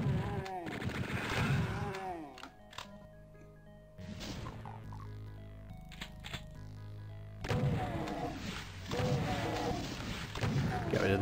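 Rapid automatic gunfire from chaingunners in the video game Final Doom's Plutonia, sharp repeated bursts with crashes and thuds, loud and close, with someone talking over parts of it.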